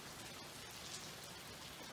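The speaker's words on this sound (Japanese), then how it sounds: "雨が降っております。" Steady rain falling at midnight outdoors, a dense continuous hiss of drops on surfaces with no other sounds, fairly quiet and unbroken throughout.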